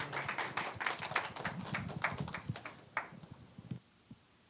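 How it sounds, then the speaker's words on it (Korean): A hall audience at a 2020 academic conference on railway heritage claps to welcome a speaker, a scattered, moderately loud patter of hands that thins out and stops near the end. "여러분, 이용상 선생님을 큰 박수로 환영해 주시기 바랍니다"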